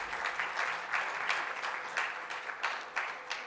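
Audience applause at the opening ceremony of a dental association's annual general congress, a steady burst of clapping from a crowd heard alone without talk.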